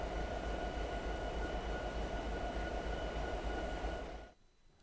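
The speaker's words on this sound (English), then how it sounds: "the train is now slowing down" A long, heavy train braking and slowing in Train Simulator 2022: loud, steady rail rumble with a low droning hum and faint high whine, running unbroken before cutting off abruptly near the end.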